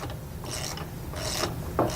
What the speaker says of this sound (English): you want to make sure that you tighten down each nut evenly to help draw that U-bolt back down straight